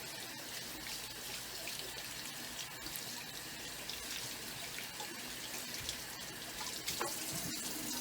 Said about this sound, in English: Now I rinse off all of the soap.